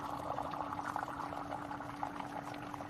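Water pours steadily from an Osmio Zero 3.0 hot water dispenser, a continuous close bubbling stream with no talking.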